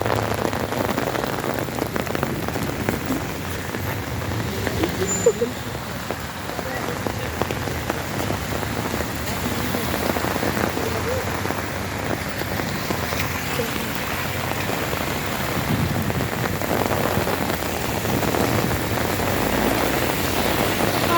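Steady heavy rain pours continuously in Antakya, Hatay, a dense broadband hiss of drops hitting surfaces, loud and close throughout with no pauses.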